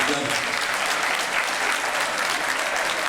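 A roomful of people at a men's breakfast meeting hosted by the mayor bursts into loud, dense applause that holds steady without a break.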